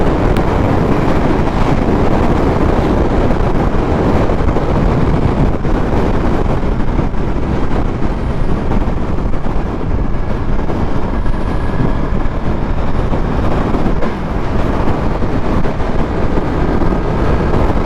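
Steady, loud wind roar buffets the microphone throughout on a fast-moving Yamaha R1 motorcycle, a dense broadband rush with no clear breaks and no talk.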